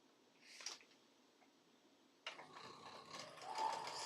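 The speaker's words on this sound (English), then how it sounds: "So we're just gonna sew them all up." Sewing machine stitching fabric pieces together in quick-piecing cotton quilting, starting with a brief whir, then a pause, then a steady, close mechanical run with rapid needle ticking.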